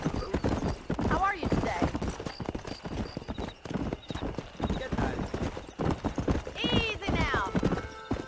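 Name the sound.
horse hooves while riding, from video game Red Dead Redemption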